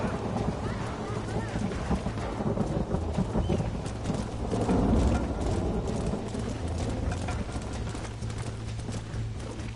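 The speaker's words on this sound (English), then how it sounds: "Storm's getting worse." Storm in the Red Dead Redemption video game, with steady rain, rumbling thunder and horse hooves clip-clopping, a continuous dense mix with a swell in the middle and speech underneath.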